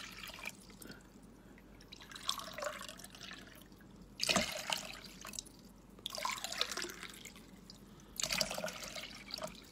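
Water from a glass is poured into a cooking pot in several separate splashing bursts, each a few seconds long with short pauses between them, close and fairly quiet.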